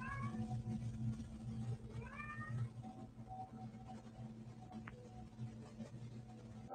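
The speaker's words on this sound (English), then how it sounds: "she notices her cat is meowing, like it's looking for its companion" A cat meowing indoors at night, several drawn-out rising meows in the first few seconds, fairly faint over a low steady hum, then quieter rustling.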